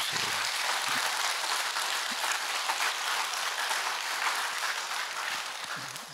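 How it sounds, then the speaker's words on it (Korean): A church congregation applauds loudly and steadily at an early-morning worship service, a dense continuous wash of clapping hands that lasts several seconds before beginning to fade. "박수 한번 크게 한번 해주세요."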